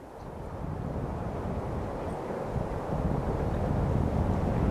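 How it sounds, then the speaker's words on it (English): Steady desert wind roaring across a microphone, a dense broadband rush with low rumble that builds slightly toward the end, no voices. "it got real windy and a lot of the dust blows up"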